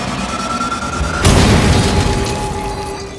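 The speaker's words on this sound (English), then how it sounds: "I want a big explosion, so I'll select level 5 intensity" A sudden, heavy boom bursts in after a quiet stretch, then a deep rumbling roar that slowly fades away.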